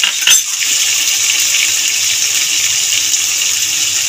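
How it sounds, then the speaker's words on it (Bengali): A small splash of water goes into frying masala for a Bengali raw banana kofta curry: a brief pour at the start, then a steady soft hiss and gurgle with no talking. "মশলা দেওয়া জল অল্প একটু দেবো"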